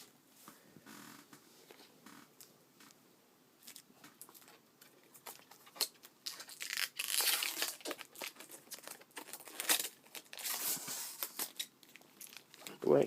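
Sticky tape is peeled and torn off a Nintendo Wii U console, with quiet crinkling at first that builds into louder ripping and crackling bursts, close up and without talk.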